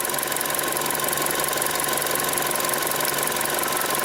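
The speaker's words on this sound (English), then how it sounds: "Key on, engine running" A Chevy Sonic car engine runs steadily at idle, a constant mechanical hum with a faint knocking texture and no other sounds.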